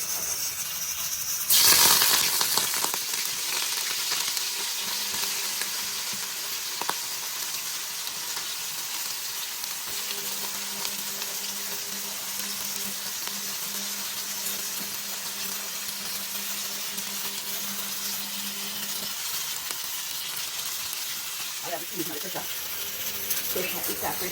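Chicken dropped into hot oil for Jamaican fried chicken, a loud burst of sizzling at the start that settles into a steady frying hiss, with a faint background hum and occasional kitchen clatter.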